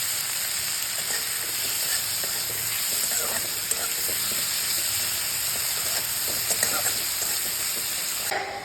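Food fries in a pan with spices going in, a steady close sizzle and hiss with light stirring clicks and scrapes throughout, no voices.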